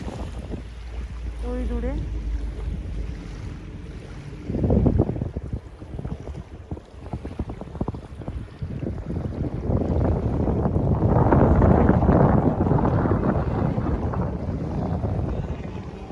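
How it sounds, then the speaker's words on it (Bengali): Speedboat passing on open water during practice runs, heard as a rising wash of engine and water noise that swells in the second half, with wind buffeting the microphone and a brief spoken remark early on. "এই একটা স্পিড বোট আসছে, প্র্যাকটিস করছে এরা"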